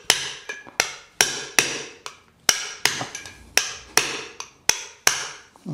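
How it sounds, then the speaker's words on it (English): A hammer strikes a chisel repeatedly to punch out a wheel bearing seal on a Land Rover Defender, about a dozen sharp metallic blows in an uneven rhythm, close and ringing. "I'm just gonna punch the seal."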